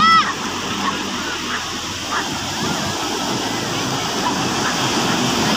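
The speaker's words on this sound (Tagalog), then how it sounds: "Lalaki ng alon mga katakbo." Big sea waves crash and splash continuously at a river mouth, close and loud, with rushing water filling the whole stretch; people talk now and then over the surf.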